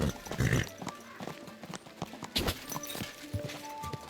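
Horse hooves clip-clop in a steady walking rhythm in the video game Kingdom Come: Deliverance 2, close and clear, with a few other thuds and tones around them.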